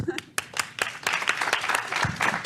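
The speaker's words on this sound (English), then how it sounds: "so final clapping" A panel audience at a policy event claps at the close, with scattered individual claps at first that thicken into a modest round of applause, fairly quiet and close, while a voice speaks over it.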